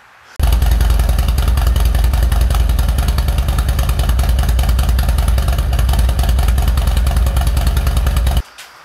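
A loud motorcycle fitted with a cam, full aftermarket exhaust and air cleaner revs hard and steadily with a deep, throaty exhaust rumble that stays strong for about eight seconds before cutting off.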